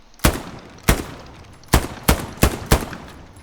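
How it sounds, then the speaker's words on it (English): Six sharp rifle shots in Hell Let Loose, fired while moving, spaced irregularly and loud, each with a short echoing tail and no talk. "you have to be able to shoot on the move like this"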